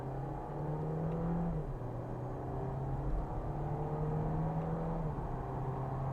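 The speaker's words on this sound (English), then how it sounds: "Listen to that. It's a little 1400 engine, and it doesn't sound like it's going to pop out." Volkswagen Golf with a 1.4-litre engine heard from inside the cabin, pulling under acceleration as a low, fairly quiet engine drone that steps down in pitch at gear changes.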